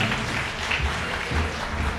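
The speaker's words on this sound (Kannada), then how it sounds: "ಎಲ್ಲರೂ ಒಮ್ಮೆ ಭಾಸ್ಕರ್ ಭಟ್ರಿಗೆ ಜೋರಾಳು ಚಪ್ಪಾಳೆ ತಟ್ಟಿ ಪ್ರೋತ್ಸಾಹಿಸಬೇಕಾಗಿ ಕೇಳುತ್ತೇನೆ" A crowd applauds a performer at a cultural programme in a temple hall, with steady, dense clapping that stays moderately loud and continuous throughout.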